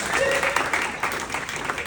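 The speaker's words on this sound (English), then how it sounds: "Give him a big round of applause." An audience at a WPRC 78th installation entertainment event applauds steadily for about two seconds, a dense, even patter of many hands with a faint voice briefly audible underneath.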